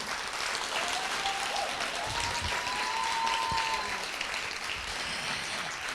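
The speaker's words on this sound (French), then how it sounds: "Je vous demande de l'applaudir très chaleureusement." An audience applauds a speaker being welcomed to talk, sustained dense clapping at an even level throughout, with a faint whistle-like tone drifting through the middle.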